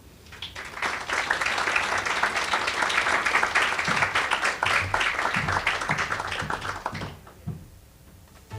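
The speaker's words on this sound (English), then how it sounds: "Another round of applause for Melody Gonzalez." Applause from an audience at a legislative summit, dense clapping swelling quickly and holding for several seconds before tapering off and stopping, with a faint voice near the end.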